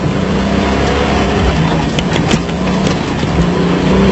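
Interior of a Toyota off-road race car at the 1995 Rustenburg 400 in South Africa, a loud, continuous engine roar with shifting revs, rattles and jolts from rough terrain, no voices.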